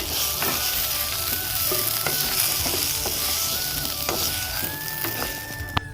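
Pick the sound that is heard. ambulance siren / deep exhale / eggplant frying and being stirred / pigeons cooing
eggplant frying and being stirred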